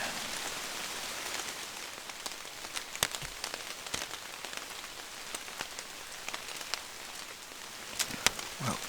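Steady rain patters on surfaces outdoors during an early-season bow hunt, a continuous moderate hiss broken by scattered sharper drips and drops throughout.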